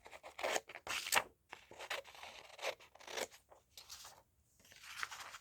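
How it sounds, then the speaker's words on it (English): Scissors cutting out a paper label, close and quiet, a series of crisp snipping and rustling strokes in irregular bursts with short pauses between. "I'm going to cut it out and have a look"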